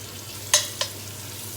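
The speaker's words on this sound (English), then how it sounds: "in with the lamb and any excess flour that was left" Floured lamb pieces tossed into a hot frying pan for an Irish stew, giving two or three short bursts of stirring and scraping over a low steady hum, with no talking.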